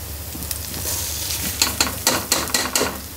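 Washed rice frying in a pot with cinnamon, cardamom, mace and cloves for pulao, a steady close sizzle broken by several bursts of stirring scrapes toward the end.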